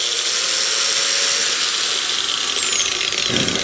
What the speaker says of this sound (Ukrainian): що болгарка без проблем стартує від інвертора